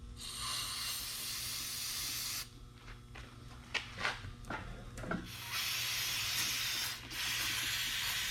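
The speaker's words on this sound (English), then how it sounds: "we'll clean up this and this entire mess with some brake cleaner." Brake cleaner sprayed from a can onto the oil drain area of a 2010 Toyota, with two long, loud, close hissing blasts separated by a stretch of scuffing and rubbing noises.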